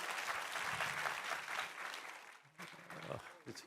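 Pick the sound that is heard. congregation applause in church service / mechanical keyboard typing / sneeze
congregation applause in church service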